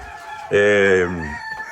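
Royal chicken hen giving one loud, drawn-out call, close by and lasting under a second, with quiet farmyard background before and after.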